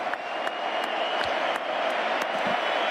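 A packed crowd in the Santiago Bernabeu stadium during a historic player unveiling, a steady wash of cheering and applause with repeated sharp bursts, loud and sustained with no clear talk on top.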